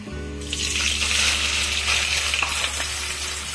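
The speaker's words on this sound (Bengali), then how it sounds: "আর এদিকে আমি পেঁয়াজের বেরেস্তাটা ভেজে নেব।" Sliced onions deep-fry in hot oil in a pan for beresta, a bright, continuous sizzle with crackles and a few light clinks of utensils, close up and without voices.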